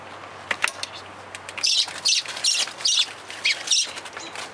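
A bird calls nearby in a yard during a backyard rescue, giving a series of about six sharp, high chirps in a fairly regular rhythm after a few faint clicks, with no talk.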